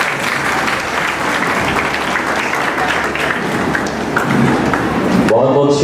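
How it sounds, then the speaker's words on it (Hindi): Dense, steady applause from an audience at a Himachal awards event, welcoming the chief guest, continuing loudly throughout; a voice begins speaking right at the end. "तालियां जोरदार होनी चाहिए"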